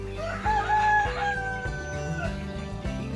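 Several guinea fowl call close by in harsh, repeated cackling bursts that overlap and continue throughout, with no speech.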